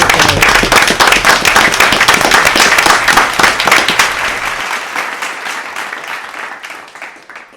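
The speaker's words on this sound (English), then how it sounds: "I'd like to give each other a round of applause, because this has been a great day." A live audience at a veterans tribute show breaks into a dense, loud round of clapping that runs steadily for several seconds and then thins and fades away toward the end.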